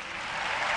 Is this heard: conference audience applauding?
yes